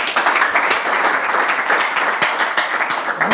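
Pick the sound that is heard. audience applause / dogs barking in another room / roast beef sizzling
audience applause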